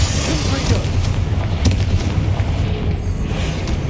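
Confringo spell explosions in the Hogwarts Legacy video game, a few deep booming bursts over a dense rumbling combat mix, loud and close.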